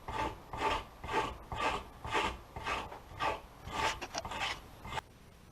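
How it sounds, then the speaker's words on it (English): A wood rasp files oak while an axe handle is shaped, about ten even, rhythmic scraping strokes, close and fairly loud, ending in quiet. "I might have to be onto the wood rasp"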